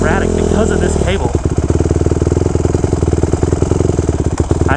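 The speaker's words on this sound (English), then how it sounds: "this idle is just erratic because of this cable" A 2014 Honda CRF 150R dirt bike engine idles erratically near the microphone, a loud uneven thumping putter with a rough rev at the start, as a rider talks over it.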